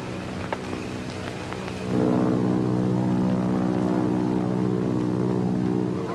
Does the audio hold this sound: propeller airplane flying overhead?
yes